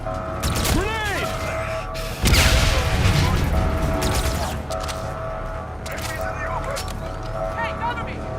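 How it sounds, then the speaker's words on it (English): A grenade blast in Call of Duty Infinite Warfare, a sudden loud, close bang with a broad crashing burst midway that decays into rumbling debris, surrounded by mechanical clatter, whistling tones and shouting voices. "Grenade!"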